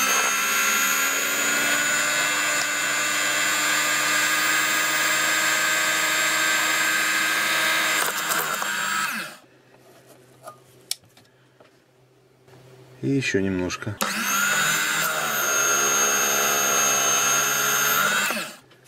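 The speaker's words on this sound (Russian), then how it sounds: "и сверлим отверстие" A power drill whines loudly and steadily, drilling a hole in a kitchen knife handle, pauses briefly while a voice speaks, then spins up again for another long burst.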